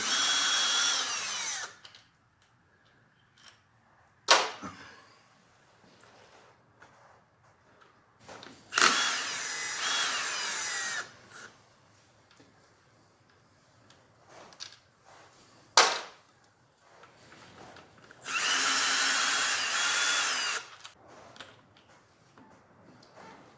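A power impact gun loosens the primary cover bolts on a Harley motorcycle in several short, loud rattling bursts separated by quiet gaps and sharp clanks of tool handling.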